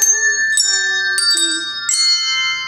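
A set of tuned bells plays a slow melody, each note ringing out with sustained tones and decaying overlap, clear and close with no talking.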